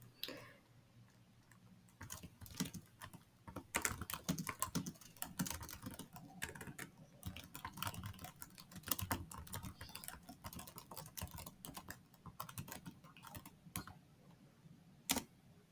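Computer keyboard keys clatter in irregular bursts as a password is typed, quick close clicks with short pauses between them and a lone sharper tap near the end, with no voices.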